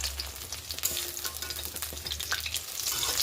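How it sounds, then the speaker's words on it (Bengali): Pumpkin flowers coated in gram-flour batter fry as fritters in a wok, giving a loud, steady, close sizzle with crackling and no voices. "এই যে কুমড়া ফুলের ভাজা দিয়েছি।"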